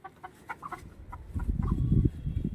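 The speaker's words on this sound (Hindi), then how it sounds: "घायल हमारा मुर्गा" An injured Aseel rooster clucks in short, repeated bursts, with rustling and low scuffling noises growing louder nearby.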